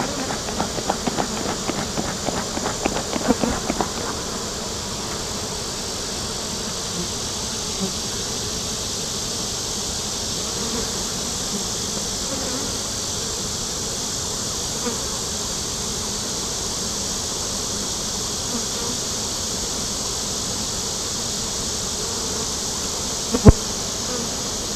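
Honeybees swarm around an open, crowded beehive, making a dense, continuous buzzing close by. A few clicks and taps come early on, and one sharp knock sounds near the end.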